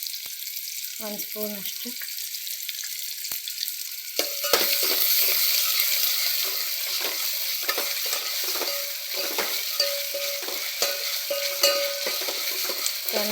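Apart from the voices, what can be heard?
ginger garlic paste frying in a pan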